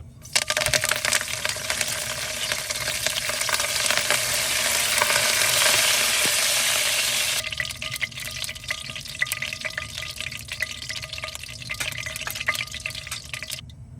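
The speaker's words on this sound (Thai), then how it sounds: "ทอดใบกะเพราก่อนนะ" Holy basil leaves fry in hot oil for a squid stir-fry, a loud, close crackling sizzle that swells to a peak midway, then settles to a lighter spitting hiss, with no talking.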